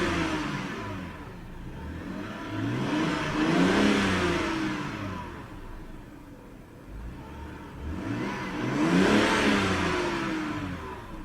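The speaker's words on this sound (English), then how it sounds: "Beautiful sounding engine." A 2006 BMW 325i engine is revved twice, each rise swelling smoothly to a peak and falling back to a soft idle, heard at a modest distance with no other sounds.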